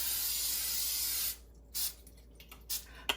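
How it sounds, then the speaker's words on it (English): A steady cooking oil spray hisses continuously onto a pan for over a second, then stops, followed by a few short, quieter spurts and faint clicks. "So we're gonna spray the pan first."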